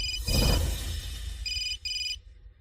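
Mobile phone ringtone for an incoming call chirps in bright, repeating electronic bursts, the last two beeps short and evenly spaced, over a low rumbling background with a brief thud near the start.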